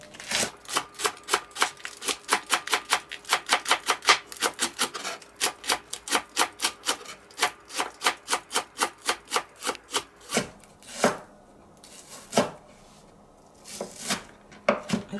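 A knife chops green onions on a board for dumpling filling in a rapid, steady run of crisp taps, then slows to a few sparse, separate strikes near the end, close and clear with no talking.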